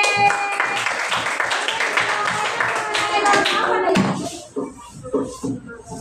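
A classroom of students claps for a presenting group, a burst of mixed clapping and tapping for about four seconds that then drops to scattered handling sounds and quiet voices.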